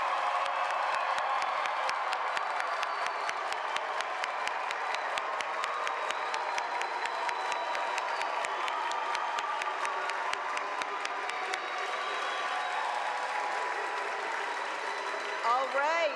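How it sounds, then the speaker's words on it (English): Sustained applause and cheering from a large crowd honoring the 2026 graduates at a business and health sciences graduation ceremony, dense steady clapping at a constant level throughout with scattered shouts. "Can we please have a round of applause for your 2026"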